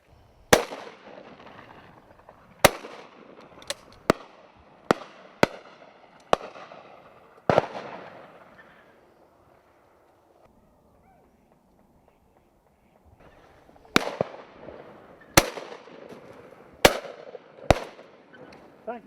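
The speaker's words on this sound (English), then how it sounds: "There's the first shot" Shotguns fire at ducks on a willow-ringed pond during a mixed duck and pigeon shoot. Sharp, scattered reports come in two clusters, some close and loud, others fainter, with a quiet lull between.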